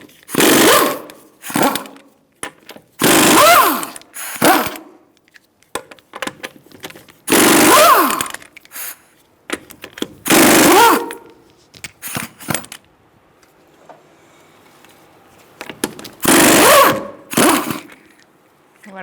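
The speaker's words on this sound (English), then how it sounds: "I'm going to use a 19mm socket to take the wheel off." A 19mm socket on a power tool takes the wheel off a Subaru Forester: about half a dozen loud, whirring bursts of a second or so each, separated by quiet pauses and small clatters.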